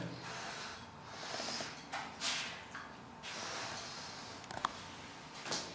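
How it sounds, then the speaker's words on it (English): Someone sniffing dry Uva FBOP1 Ceylon tea leaves, a few quiet close airy inhalations separated by short pauses. "Let's give this a quick sniff."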